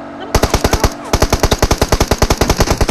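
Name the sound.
gunfire from PUBG Mobile video game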